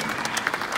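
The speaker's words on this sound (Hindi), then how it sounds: "तालियां बजती रहनी चाहिए." Audience applause fills a ghazal concert hall, a dense and steady wash of many hands clapping close and continuous throughout the short moment.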